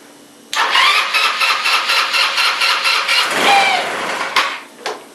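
A Yamaha Cygnus 125 scooter engine cranks and catches, running loud and close with a pulsing rhythm for about four seconds, then dying away with a couple of short sputters at the end.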